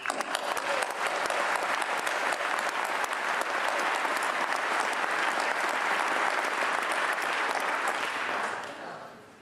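Dense, sustained applause from a large audience at a public gathering, steady and loud for about eight seconds before tapering off at the end.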